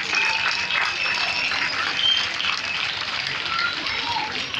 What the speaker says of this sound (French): Nous pouvons également applaudir pour nos chers élèves.